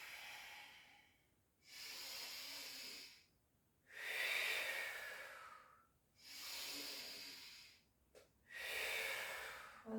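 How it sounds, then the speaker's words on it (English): Deep breaths in and out during a full-body stretching workout: five long, loud airy inhales and exhales in a slow, steady rhythm, close to the microphone, with short quiet pauses between them and no talking. "Big full deep breaths in and out"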